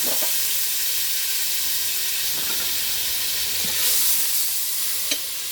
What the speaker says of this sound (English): now that we have our pot warm, we're going to put in a couple of tablespoons of butter